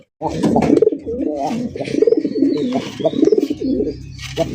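A domestic gende-coloured pigeon of an old village breed coos in repeated throaty rolls, close and clear, with a person talking briefly underneath.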